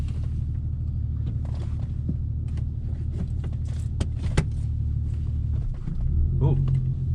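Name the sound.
2000 VW GTI car engine on test drive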